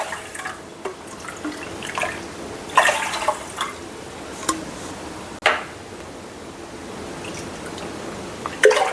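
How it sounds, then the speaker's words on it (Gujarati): Water is poured by the cupful into a pan for sugar syrup, giving several faint splashes and drips at irregular intervals against a quiet room. "તો આ રીતે આપણે 5 કપ પાણી લઈ લઈશું."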